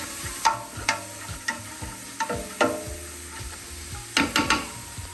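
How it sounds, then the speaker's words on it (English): Onions sautéing in a pot for Portuguese caldo verde soup, with a soft sizzle broken by repeated scraping stirs of a spoon, close and moderately loud, with no voices. "now in with the onions. Saute those around"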